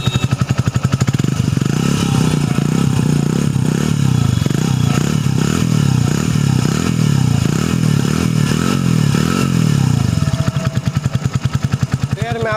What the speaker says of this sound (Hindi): इसका एग्जॉस्ट नोट कैसा है वो अभी मैं आपको सुनाऊँगा